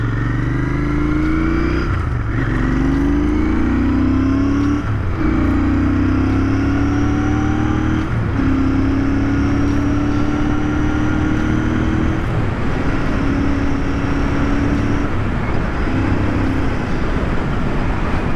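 A 2021 Royal Enfield Continental GT 650 motorcycle engine with a DNA air filter runs loudly and continuously, revving up repeatedly in rising surges with brief dips between, heard close up.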